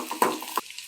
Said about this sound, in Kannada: ಚೆನ್ನಾಗಿ ಕೆಂಪಗಾಗೋ ತನಕ ಹುರ್ಕೋಬೇಕು